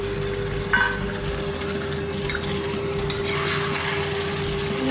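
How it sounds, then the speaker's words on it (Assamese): Duck curry with potatoes stirred in a pan over the heat, a continuous loud sizzle with a faint steady hum and occasional scraping pushes. "দি ভালকৈ লৰাই"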